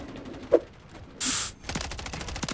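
MTZ 556 assault rifle in Modern Warfare 3 fires a rapid, loud burst of closely spaced shots in the final second, preceded by a single crack, a whooshing hiss and other game effects, with no talking.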